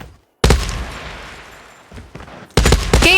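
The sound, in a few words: gunfire in the video game Call of Duty Mobile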